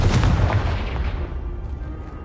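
A Confringo blasting spell bursts in a video game, one heavy booming explosion that hits hard at the start and rumbles away over about two seconds.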